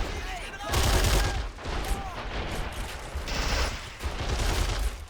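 Gunfire and explosions from a World War combat battle in the video game Men of War Assault Squad 2, as a gun emplacement comes under heavy attack; a dense, continuous clatter of shots and bursts with heavy booms rolling through.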